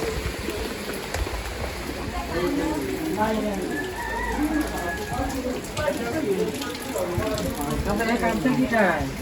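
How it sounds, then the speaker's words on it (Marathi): Steady rain falls on a shelter in a Konkan village in May, a constant patter close by, with people talking over it and birds calling faintly. "इकडे पाऊस बघा मे महिन्यात पण धुवू लागतं पावसाळ्यासारखं"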